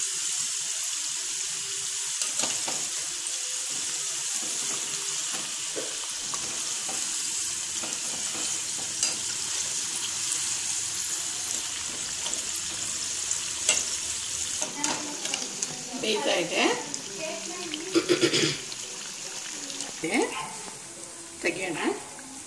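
Karida kadabu dumplings deep-frying in oil and being turned continually for Ugadi, a steady bubbling sizzle throughout with louder stirring and scraping in the second half.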